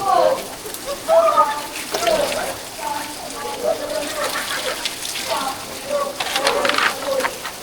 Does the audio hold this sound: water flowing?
yes